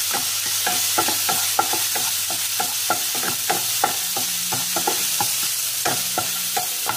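Ingredients for drunken spaghetti are stir-fried in a pan with a loud, continuous sizzle. A spatula scrapes in quick, regular strokes throughout, and no one speaks.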